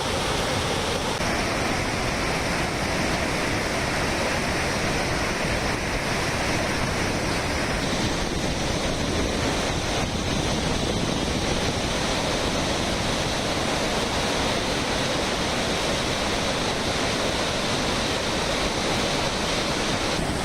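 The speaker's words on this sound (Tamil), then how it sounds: "திருப்பரப்பு அருவியில் கடும் வெள்ளப்பெருக்கு ஏற்பட்டு" Heavy floodwater pouring over Tirparappu waterfall, a dense, constant roar of rushing water that stays loud and steady throughout with no voices.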